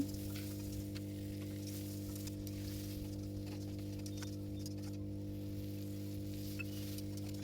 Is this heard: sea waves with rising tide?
no